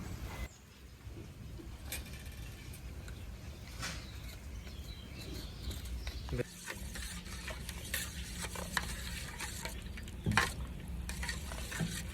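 Amul milk powder is stirred into liquid with a spoon, making repeated scraping taps over a faint background sizzle, with no voices.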